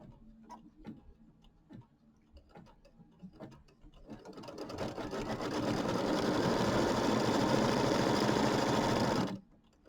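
A sewing machine stitches fabric for a pieced quilt block. A few scattered clicks and handling taps come first, then the motor ramps up into a loud, steady whirring rattle lasting about five seconds before stopping abruptly.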